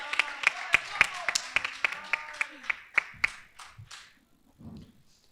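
A small studio audience on a Catalan-language podcast claps in sparse, distinct hand claps that thin out and stop, with brief murmuring voices near the end.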